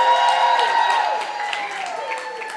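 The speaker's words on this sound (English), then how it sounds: "Can we give Rebecca another round of applause" An audience at a university leadership institute's anniversary campus celebration applauds steadily and loudly throughout, the clapping tapering slightly toward the end.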